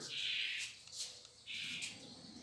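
Bursts of high bird chirping come in two long stretches with a gap between, fairly steady and moderately loud, with no talking.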